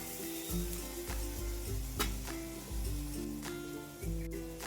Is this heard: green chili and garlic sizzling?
yes